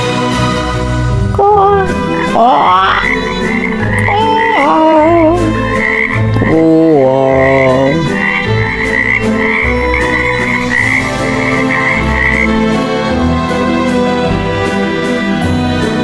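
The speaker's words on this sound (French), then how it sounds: "Ce qu'on aime chez les grenouilles, c'est leur chant." A loud, dense chorus of croaking frogs with warbling, rising calls layered over a steady low pulse, continuous throughout.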